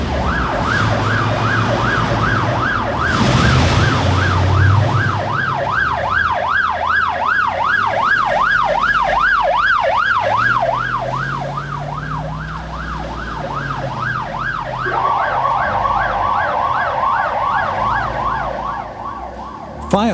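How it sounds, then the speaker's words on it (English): Fire engine sirens wail loudly and steadily as the trucks race to an emergency, rising and falling in a continuous cycle over road noise, with the tone shifting partway through. "With their sirens blaring and blue lights flashing, they waste no time on their way to the scene."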